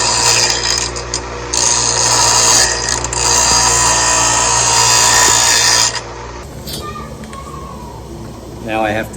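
A power drill bores a hole in wood for a homemade longbow: a loud, steady grinding whir for about six seconds, then it stops, leaving quieter handling noises.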